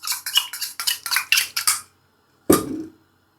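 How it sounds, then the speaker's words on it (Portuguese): Spoon clinking and scraping in a bowl while a honey and salt sauce is mixed, a rapid run of about eight close, bright clinks followed by a pause and one final knock. "Agora é só misturar"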